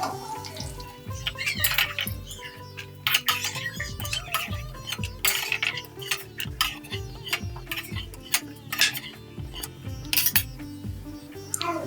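Roasted cashews clatter and scrape as they are tipped from a pan onto a steel plate, giving a busy run of close metallic ticks and rattles with some rinsing-like swishes underneath.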